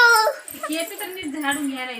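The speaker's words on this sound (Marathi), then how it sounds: "इकडे खेळतीये पिल्लू" A puppy whimpers and yips in high, wavering cries while playing at home, close and fairly loud.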